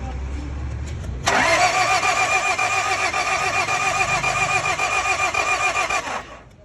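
A Toyota Hilux 2KD diesel engine turns over and catches at once, then runs loud and steady with a rough, rumbling idle for several seconds before cutting off abruptly.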